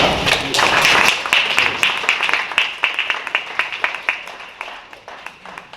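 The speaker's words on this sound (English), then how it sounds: "Give them a round of applause as they come on up." Audience at a neighborhood association community forum applauds as presenters come up; dense clapping at first, thinning after about a second into scattered, individual claps that keep going.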